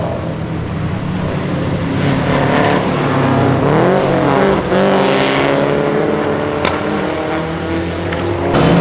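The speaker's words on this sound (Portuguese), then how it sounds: "Do nada, um Opala gritando atrás, você tá louco." A Chevrolet Opala's engine screams loudly close by at a racing event, its rising then falling roar running through the whole stretch over the steady engine noise of other cars, with no talk.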